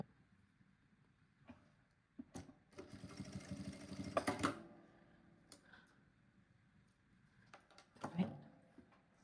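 A sewing machine stitches down a ring on a handbag, with short bursts of rapid mechanical stitching near the mic, the longest run in the middle, separated by quiet pauses and light handling sounds.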